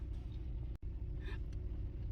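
A refrigerator truck idles nearby in a steady low rumble that runs through the whole stretch, broken by one brief dropout, with a faint higher whine partway through.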